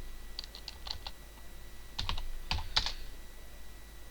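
A computer keyboard is typed on in short bursts of quick close keystrokes, a brief cluster, a pause, then another flurry, with no talking.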